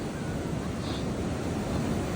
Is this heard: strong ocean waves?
yes